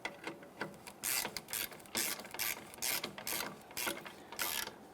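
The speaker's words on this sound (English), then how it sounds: "Now that we have all 4 bolts threaded in, let's go ahead and snug those down" Ratchet wrench snugging down the mounting bolts of an A/C condenser on a 2005-2010 Chrysler 300, giving repeated rapid clicking bursts in a steady rhythm, close and clear with no talking.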